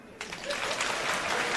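A comedy stand-up audience breaks into a burst of clapping that starts abruptly and builds into steady, dense applause filling the room, with no talking over it.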